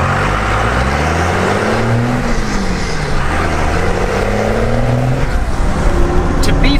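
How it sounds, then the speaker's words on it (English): A 1994 Ram 2500 pickup truck with a loud aftermarket exhaust rumbles steadily, its deep engine note rising and falling as it accelerates, close and continuous. "This one in particular has an aftermarket exhaust, so it's even louder."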